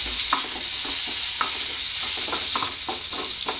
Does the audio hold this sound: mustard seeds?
yes